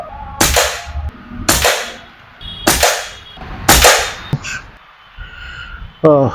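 Air rifle shots from an Arawan firing H&N Barracuda pellets: four sharp cracks at roughly one-second intervals, each with a short ringing tail, loud and close, followed by fainter clicks and a brief chirp near the end.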